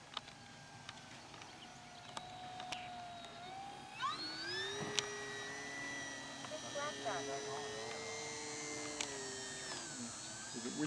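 An FMS radio-controlled model airplane, a Cessna 182 or Ranger 1220mm, buzzes steadily as it flies in to land, its electric whine rising and bending in pitch, heard at moderate distance with people talking nearby.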